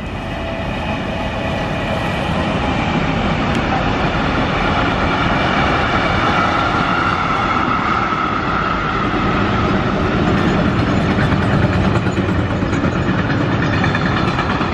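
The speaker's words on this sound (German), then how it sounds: "Gleichzeitig kommt auf der rechten Rheinseite von Norden her dieser Mischer, gezogen von einer Baureihe 187, einer Trax 3, gefahren." A mixed freight train hauled by a Class 187 Traxx 3 electric locomotive rolls past on the right bank of the Rhine, a loud, steady rumble and rattle of wagons sustained throughout with no break.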